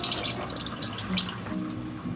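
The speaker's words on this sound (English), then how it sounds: "while the sinks are still draining" Water runs and drains steadily from the sinks of a Catalina 30 sailboat during winterizing of the plumbing, a close, continuous gurgling stream with faint drips.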